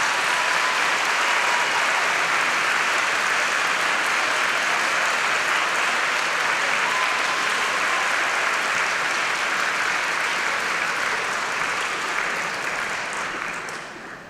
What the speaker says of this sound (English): give them a massive round of applause for all the support that they've offered